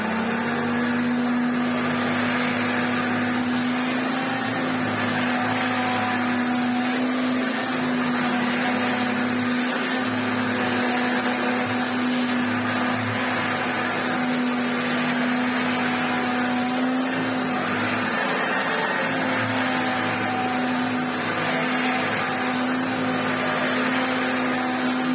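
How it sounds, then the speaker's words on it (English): A refurbished Hoover Turbopower Junior U1222 upright vacuum cleaner with a rebuilt TP1 motor runs continuously on carpet, a loud steady motor whine and drone with slight shifts as it is pushed back and forth. "We'll get it back together and do some more vacuuming to celebrate a done restoration."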